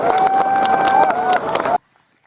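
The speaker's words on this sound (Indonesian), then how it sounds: "tepuk tangan untuk beliau." A crowd at an evening political rally applauds an honored guest, a dense burst of clapping and cheering mixed with a sustained voice, cutting off abruptly to silence.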